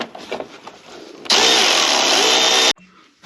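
Power driver spinning out 7mm bolts holding the fog light on a Jeep JLU, a loud steady whir lasting about a second and a half before cutting off abruptly, with quieter handling noises before and after.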